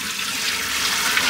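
Water draining down a newly fitted kitchen sink in a camper van, a steady close hiss and gurgle of water running into the waste pipe.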